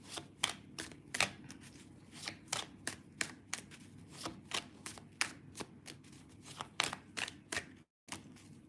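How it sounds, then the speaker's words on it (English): Cards from a deck used for psychic readings are handled and a card is drawn, making a quick run of crisp, close flicks and snaps that are quiet and have no voices over them. "Let's pull a card on that."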